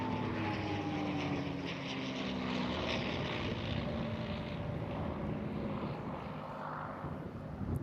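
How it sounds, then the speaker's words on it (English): A propeller aircraft at the Eastbourne International Airshow drones steadily overhead, with a continuous loud engine roar and a slowly shifting pitch as it passes. "it just gives the impression of a really meaty, tough, combative aircraft"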